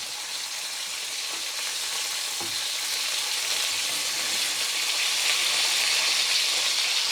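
Lamb steaks sizzle in a hot frying pan, a steady bright crackling hiss that holds close and even throughout, slowly swelling a little louder toward the end, with no voices.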